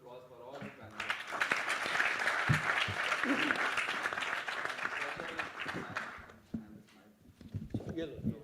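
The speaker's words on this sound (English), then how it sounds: "let's have a big round of applause" An audience at a corporate restructuring conference on NCLT and NCLAT applauds the panelists, a dense burst of clapping that swells, holds for several seconds, then fades as a voice resumes speaking.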